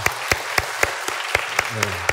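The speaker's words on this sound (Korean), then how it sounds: "오늘도 우리 예배를 우리 섬겨주신 우리 오케스트라와 성가대에게 우리 영광의 박수 올리겠습니다." A church congregation claps for the orchestra and choir: steady, evenly spaced beats in unison, about four per second, sharp and moderately loud, with a low voice briefly under the final claps.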